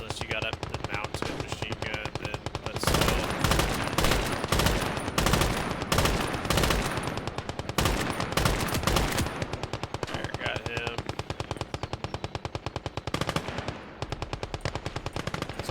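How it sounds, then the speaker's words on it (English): Machine guns fire in the World War II game Gates of Hell, rapid rattling bursts loud and close, some long and some clipped, against ongoing battle noise with a voice talking over it. "Burst fire is going to be your most accurate. Unless you got a mounted machine gun"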